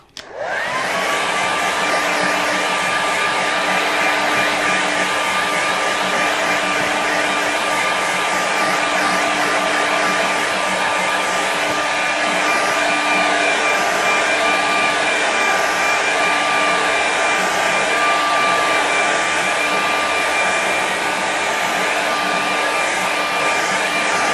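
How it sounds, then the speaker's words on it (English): A hair dryer dries watercolour paint, running continuously at close range with a loud steady whooshing roar and a faint high whine, no talking. "quick dry with the air dryer"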